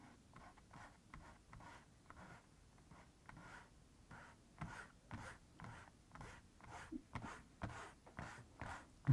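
A pencil eraser rubs on sketch paper in quick, rhythmic, close strokes, soft and scratchy, with short pauses between bursts and no voices.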